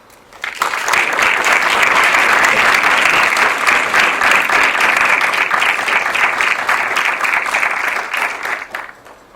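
An audience applauds to welcome artist Gillian Pederson-Krag: steady, loud clapping from a room full of people that rises quickly, holds for several seconds and fades at the end.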